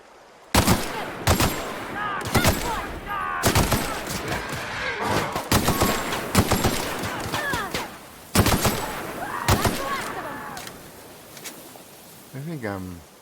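Repeated bursts of gunfire in the video game The Outer Worlds, loud sharp shots fired in quick volleys across the whole stretch, with brief pauses between them and vocal sounds mixed in.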